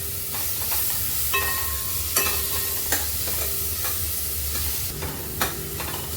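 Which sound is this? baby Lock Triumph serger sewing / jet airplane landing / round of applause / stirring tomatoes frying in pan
stirring tomatoes frying in pan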